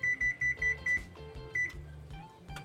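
Oven being set to preheat to 400 degrees: five quick, evenly spaced electronic beeps as the buttons are pressed, then a brief pause and one more beep, with soft clatter in a kitchen and no speech.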